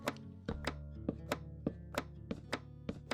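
Meat is chopped with a knife on a cutting board in the Minecraft Create mod, a run of about a dozen sharp, evenly spaced thunks in a steady rhythm, close and clear with no talking.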